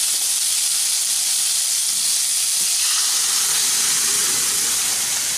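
Boiled dal poured into hot oil with bottle gourd, a loud, steady steamy hiss that softens slightly toward the end, with no voices.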